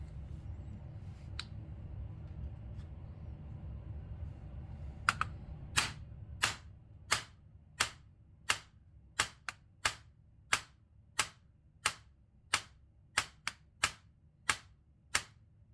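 A hammer strikes a staking tool against a castle nut, about fifteen sharp metallic taps at a steady, roughly even pace, close and loud over a quiet low hum, following a few seconds of near silence.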